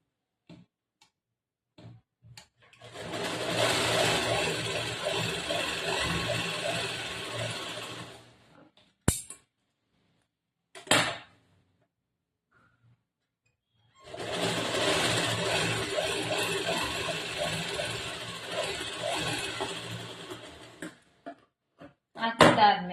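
A sewing machine stitches a double seam on a cross-cut blouse in two long steady runs of rapid mechanical whirring, close and loud, separated by quiet pauses with brief clicks and handling knocks.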